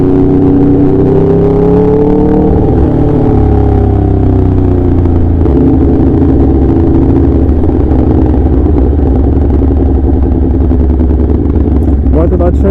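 A 2017 Aprilia RSV4 RF fitted with a low-position SC Project S1 exhaust, heard as a loud, close, throaty engine that rises and falls in pitch as it revs, with speech mixed in.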